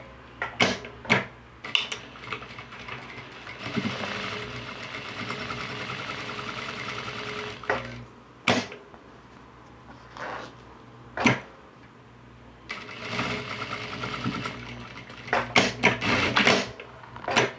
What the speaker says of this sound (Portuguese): vou passar a costura aqui, ó